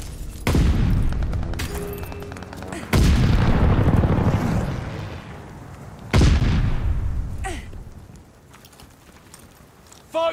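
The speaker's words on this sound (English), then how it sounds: "Friendly sending an airstrike." Three heavy airstrike explosions in a ranked Search and Destroy match of a shooter video game, each a loud booming blast with a long rumbling decay, spaced about three seconds apart, followed by faint gunfire and game effects.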